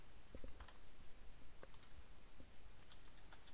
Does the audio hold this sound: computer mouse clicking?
yes